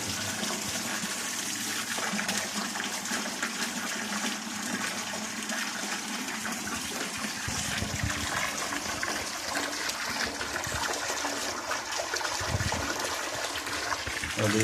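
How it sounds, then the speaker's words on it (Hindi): Water gushes steadily and loudly from the delivery pipe of a newly installed 12-volt DC solar water pump, a continuous, unbroken rush lasting throughout. "और ये पानी की डिलीवरी।"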